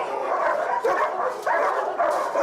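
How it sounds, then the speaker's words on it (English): Dogs in an animal shelter undergoing behavioral evaluation: a dense, continuous din of barking and whimpering from several dogs at once, with louder yelping surges recurring roughly every half second over a steady kennel clamor. "The dogs you're about to see are not up for adoption yet."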